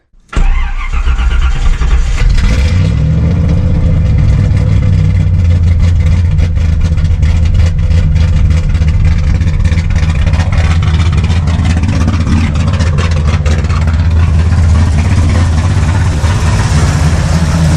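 A 1987 Camaro engine cranks briefly, catches and settles into a steady, loud, rumbling run that continues unbroken to the end, close by with no talking.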